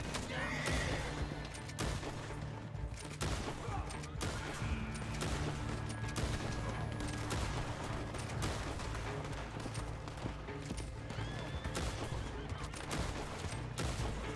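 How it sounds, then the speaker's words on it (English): Gunfire and horses in Red Dead Redemption 2, with a dense, noisy battle scene full of scattered shots, whinnying and hoofbeats, busy and moderately loud throughout. "I hear the gunshots going off."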